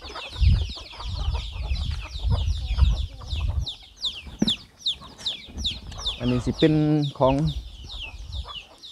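Chickens cluck and squawk in a coop, several birds calling in irregular bursts close by, with one drawn-out call standing out near the end, while someone talks over them.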